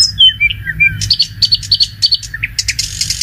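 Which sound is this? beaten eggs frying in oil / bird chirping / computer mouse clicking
bird chirping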